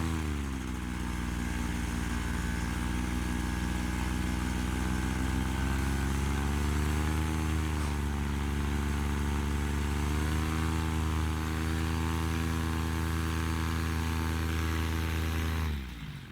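Paramotor engine, freshly rebuilt, running steadily at quarter throttle on a ground test, a loud, close, continuous buzzing drone with a slight pitch dip midway, cutting off at the very end.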